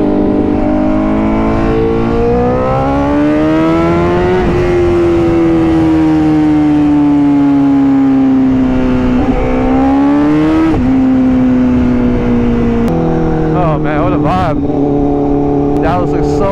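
A Honda CBR 1000RR-R SP motorcycle engine revs loud and close, its pitch rising and falling through sustained pulls with a few sharper blips near the end.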